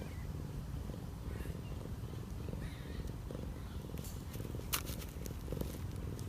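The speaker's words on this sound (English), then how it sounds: "Can they see you purring?" A cat purrs steadily and very close, a continuous low rumbling throb with soft scattered rustles and clicks on top, no talking.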